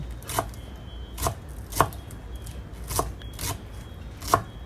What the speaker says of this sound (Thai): หั่นต้นหอมผักชี ไว้เป็นเครื่องปรุงที่ใส่ลงไปเครื่องเคียง